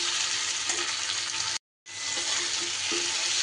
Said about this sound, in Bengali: বেগুনটা দিয়েও আবারও আমি কয়েক সেকেন্ড একটু নাড়িয়ে চাড়িয়ে নেব